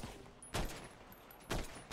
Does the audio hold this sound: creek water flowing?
no